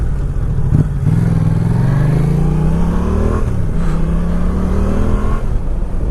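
A Yamaha Tracer 700 motorcycle at riding speed, its engine droning steadily with rising harmonic pitch as it accelerates through gears, a brief shift dip near the start, wind rush layered over the constant close engine note.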